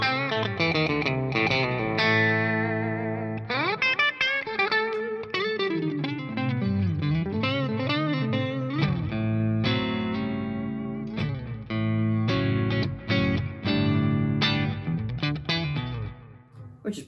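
An electric guitar through a TC Electronic Silver Nut distortion pedal, with amp reverb and delay, plays a continuous, loud run of notes and chords alone, the tone shifting between cleaner and driven passages.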